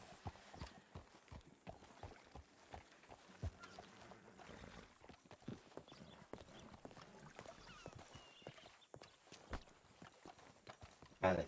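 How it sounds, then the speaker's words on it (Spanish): Hooves of a horse walking in the Red Dead RP video game, a quiet, steady clip-clop in a low background with scattered soft thumps. "Está por ahí eh, sacando el caballo."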